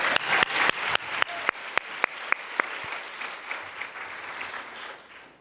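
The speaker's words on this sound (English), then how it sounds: "Let's just give them a round of applause." Audience applause for datathon winners at a WiDS 2018 event: several sharp, loud claps ring out at first, then the clapping softens into a scattered, fading patter.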